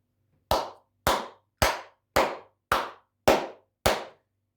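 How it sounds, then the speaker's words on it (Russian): Seven sharp, loud hand claps ring out one at a time, evenly spaced about half a second apart, close and crisp with brief decays and silence between them. "И вот так вот хлопаете, но это не самый громкий."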